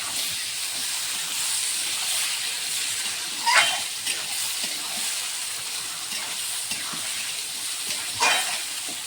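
Mutton with tomato frying in a pan while being stirred, a steady loud sizzle and hiss with a few brief scraping bursts from the stirring, no voices.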